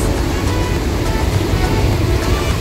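A boat under way at sea in bad weather beneath heavy clouds, giving a steady, loud broadband roar of surf and wind with a low rumbling churn throughout and no voices.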